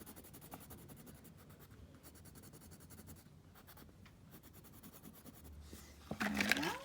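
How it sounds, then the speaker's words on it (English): Drawing and coloring on paper, continuous soft scratchy strokes of a coloring tool with short pauses between passes, faint and close, ending in a louder brief rustle. "I'm gonna draw, color."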